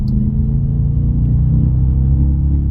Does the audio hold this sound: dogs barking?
no